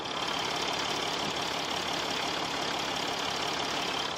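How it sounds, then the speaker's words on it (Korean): A 2018 Mercedes GLE coupe engine idles steadily, close to the microphone, with a smooth, continuous hum and a light ticking texture throughout. "엔진 소리도 너무 정숙합니다 바로 엔진 소리 한번 들려드릴게요"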